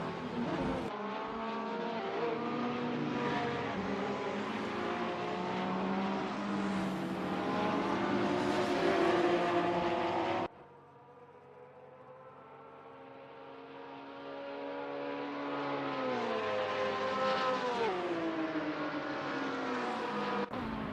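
GT3 race cars, including a Lamborghini Huracan GT3, howl around Tamiami Park with engines climbing through gears and downshifting, loud and continuous, one pass giving way to another more distant engine note.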